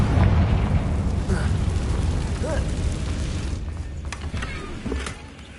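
A Confringo fire spell from Hogwarts Legacy on PS5 erupts in a loud rumbling burst followed by crackling blasts, with a few sharp pops and clicks as the blast fades.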